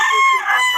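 Roosters and hens at a poultry sale crow and cluck loudly and close by in a short burst, with no talk in the clip.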